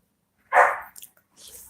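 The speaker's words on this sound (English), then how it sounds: "And he's barking." One short dog bark, close and fairly loud, followed by a few faint softer sounds in otherwise quiet surroundings.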